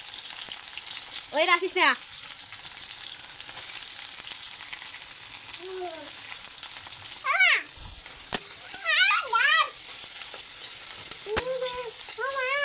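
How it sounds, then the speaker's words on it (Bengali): Onion and green chilli frying in a pan, a steady crackling sizzle running throughout underneath several brief voices talking nearby. "তারপর এদিকে দিব পেঁয়াজ লঙ্কাটা"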